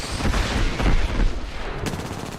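Dense, loud bursts of automatic gunfire in an Apex Legends Season 12 match, continuous rapid shots with booming impacts and no talking.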